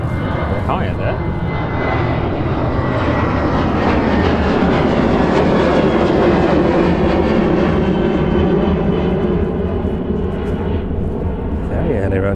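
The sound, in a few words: airplane taking off, likely Ryanair jet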